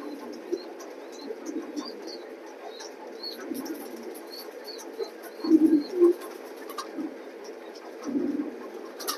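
Racing pigeons cooing in scattered, soft low bursts against a quiet background with faint chirps, a couple of louder coos standing out near the birds.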